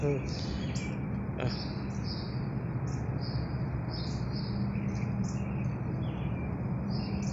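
Birds chirping outdoors early in the morning, a string of short high twittering calls repeating over a steady broadband background hiss, moderately faint and continuous throughout.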